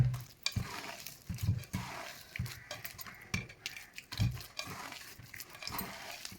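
Batter for Kerala kumbil appam is stirred in a pan, giving irregular scraping and tapping strokes with soft thuds, close and fairly quiet, with no voices.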